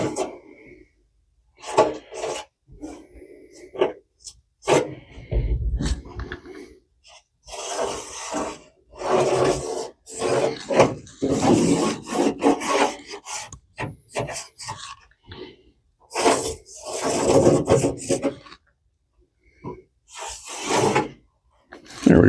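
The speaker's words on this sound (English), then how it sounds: "I'm going to just take a Sharpie, scribe a line on where the floor pan is" A Sharpie marker scraping across the metal floor pan of a 1979 Ford F100, heard as a series of short, close, raspy strokes separated by quiet gaps.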